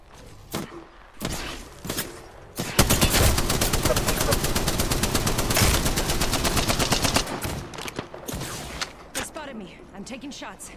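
Dense, loud gunfire from the Apex Legends battle royale shooter, sustained bursts of rapid automatic shots dominating the middle stretch, with sporadic single shots and impacts before and after, and a voice speaking over the fight.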